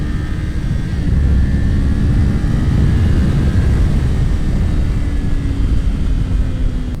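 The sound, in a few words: Kawasaki Ninja 500 SE motorcycle engine with throttle held down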